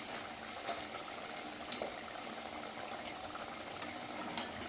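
Luchi, a puffed Bengali flatbread, deep-fries in hot oil with a continuous soft bubbling sizzle that stays low and even throughout.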